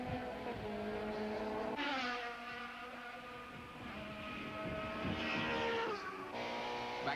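Touring cars race at Killarney, with a Nissan Sentra and a BMW running nose to tail in a close battle. Engines drone steadily with shifting pitch and audible gear changes, heard at a moderate distance with no talk.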